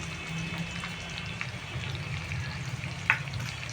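Onion and ginger paste frying in a pan for egg chilli, giving a soft continuous sizzle with light stirring and one sharp clink of a spoon near the end.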